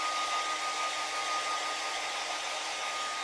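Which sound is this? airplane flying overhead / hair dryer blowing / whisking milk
hair dryer blowing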